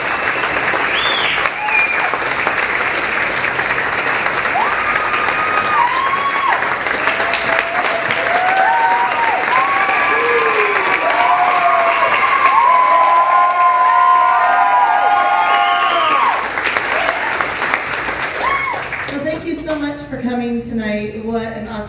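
Audience applauding and cheering at a school dinner theater performance, a steady, loud crowd clapping with whoops and children's shouts, continuing for the full stretch before fading near the end.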